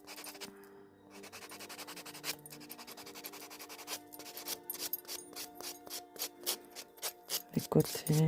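A nail file and a small sanding block rasp across fingernails while false nail tips are shaped and buffed, with steady scratchy strokes that grow into a fast, regular back-and-forth rhythm up close.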